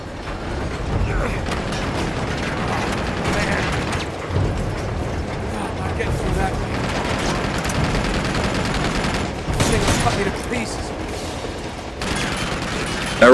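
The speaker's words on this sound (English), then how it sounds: "There's a turret up ahead that's shooting at you" Heavy turret gunfire in Uncharted 2 on Brutal difficulty: loud, sustained automatic bursts with metallic mechanical clatter and impacts, rolling on almost without pause and swelling in sharper bursts near the end.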